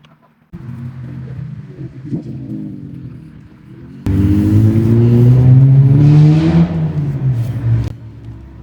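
A Honda car revs past nearby, a low engine rumble that jumps sharply louder, swells with rising pitch, then fades away.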